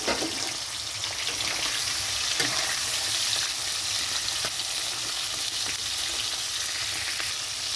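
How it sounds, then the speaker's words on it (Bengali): Prawns frying in hot mustard oil in a wok give a steady, loud sizzle throughout, with occasional sharper spits and crackles and no talk. "তো মাছটা প্রথমে ভেজে নিচ্ছি।"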